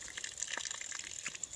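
Water running from an outdoor spigot on a broken water line during washing, a steady hissing gush close by, with a few brief splashy bursts and no talk.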